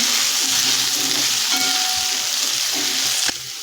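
Beans and mixed vegetables fry loudly in a pan for veg pulao, a dense, steady sizzle that drops off abruptly near the end, with no voices.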